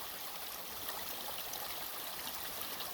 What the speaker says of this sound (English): there's the water coming out of the spring in the side of the mountain